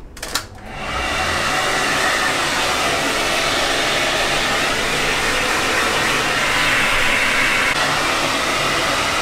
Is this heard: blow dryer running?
yes